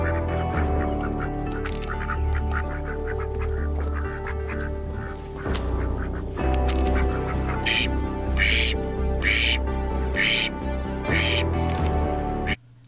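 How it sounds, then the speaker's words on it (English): A duck honks and quacks repeatedly up close, loud nasal calls in a loose rhythm that continue for several seconds. "we brought Gabriel the duck home."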